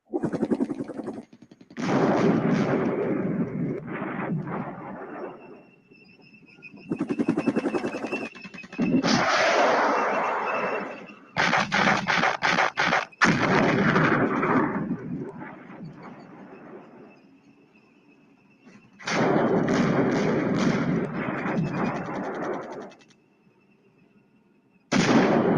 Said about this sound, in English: Why are they committing artillery strikes into a single recce team?